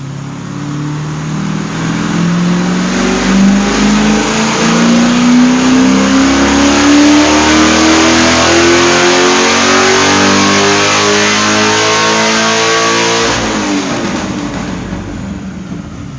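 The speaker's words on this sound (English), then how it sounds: "we're going to find out what kind of power she makes and make some pretty good noise doing it" A Pontiac GTO engine on a chassis dyno winds up in one long, loud pull, its pitch climbing steadily for about thirteen seconds before the throttle lifts and the revs fall away, with no talking.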